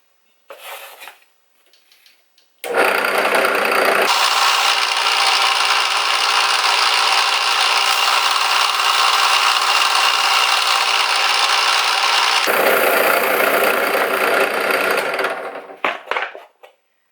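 A wooden swimbait lure is sanded by a power sander, giving a loud continuous grinding whir that shifts pitch partway through and cuts off, with a few quieter handling knocks before and after.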